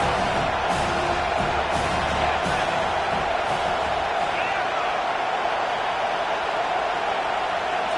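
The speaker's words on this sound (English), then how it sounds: "how nice is it to have the home crowd going absolutely bananas?" A home crowd at a college football game between Michigan and Penn State roars continuously, a dense, steady wash of cheering and shouts at a distance with occasional sharper whoops near the start.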